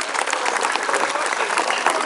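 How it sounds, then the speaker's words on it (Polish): Dense, steady applause from the audience at a medieval armoured battle tournament, many hands clapping close together with crowd noise throughout, with a commentator speaking over the clapping. "Bijcie, brawa, drodzy państwo, to może pogodzić te dwie armie."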